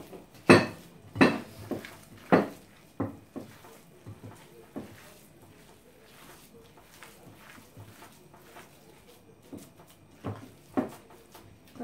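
Ground beef stuffing mixed with egg in a bowl, a run of clanking utensil knocks against the dish, loud at first and then softer, with quiet scraping in between.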